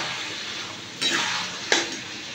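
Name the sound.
stirring chili chicken with pepper powder in pan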